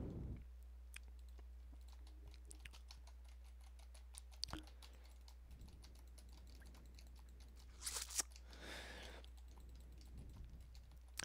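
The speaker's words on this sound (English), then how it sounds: "I'm gonna go ahead and do the typey and clicky test." Typing and clicking on a computer keyboard picked up by a cheap, sensitive microphone: rapid irregular clacks and key taps over a steady low hum, with a few louder bursts near the end and no talking.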